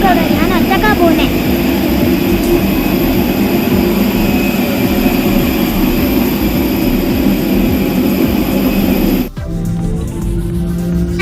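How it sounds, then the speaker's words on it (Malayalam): Airplane engine roar inside the cabin as the flight speeds up, a loud steady broadband rumble with whine that cuts off sharply near the end. "ഈ ഫ്ലൈറ്റിന്റെ സ്പീഡ് കൂടി വരും. നല്ല സ്പീഡ് ഈ ഫ്ലൈറ്റിന്."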